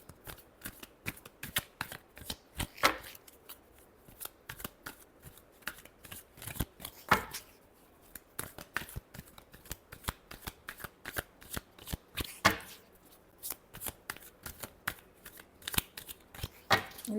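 Tarot cards shuffled close by in a long run of crisp, rapid riffles and slaps, sounding as a quick, uneven patter for the whole stretch, without any speech.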